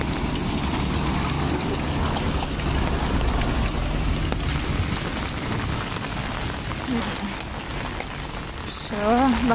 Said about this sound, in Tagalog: Oh, ulan masyado. Dahil sa may bagyo.